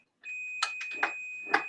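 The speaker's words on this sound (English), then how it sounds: "You can hear the beep." A steady high-pitched electronic beep tone sounds continuously, with a few soft clicks and taps close by underneath.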